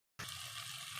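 Water is poured into a cooking pan holding a Bengali paneer curry with chickpeas, boiled peas, ginger paste, tomato, turmeric and chili, a steady close splashing gush lasting under a second after brief silence.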